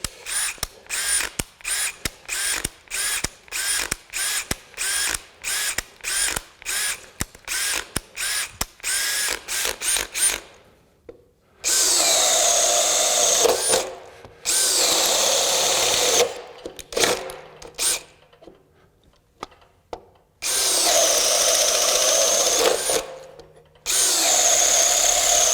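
A DEWALT Atomic 20V brushless compact drill bores a 1-1/8 inch hole in wood, starting with rapid stuttering bursts and then running in long sustained whirring stretches broken by short pauses.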